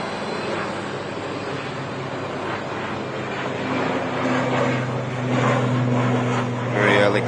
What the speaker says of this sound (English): Prop just departing.